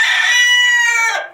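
A broody hen gives a loud, close, drawn-out vocal call lasting just over a second, then fades out at the end.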